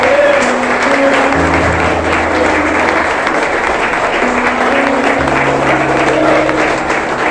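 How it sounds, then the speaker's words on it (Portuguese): A standing church congregation applauds loudly during a Sunday service, a continuous, full clapping of many hands with a steady sustained musical tone running underneath throughout. "Vamos ficar de pé mais uma vez para aplaudir o Senhor, porque Ele é digno."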